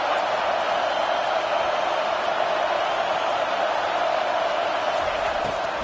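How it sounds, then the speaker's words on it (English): Stadium crowd at a Florida vs Ohio State football game roaring on third down, a dense, steady wall of cheering noise that holds loud and unbroken throughout. "Decibels rising as the crowd gets behind this defense on third down."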